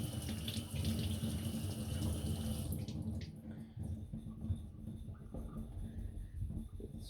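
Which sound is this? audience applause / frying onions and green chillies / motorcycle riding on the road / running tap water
running tap water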